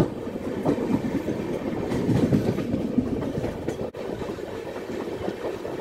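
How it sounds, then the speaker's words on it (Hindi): A passenger express train runs through Udhna junction near Surat with a steady rumble and rhythmic clickety-clack of wheels on rail joints, loud and close from onboard, with a brief dip in the noise near the end. "अभी हमारी ट्रेन उधना जंक्शन को क्रॉस कर रही है।"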